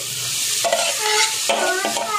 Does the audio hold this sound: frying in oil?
yes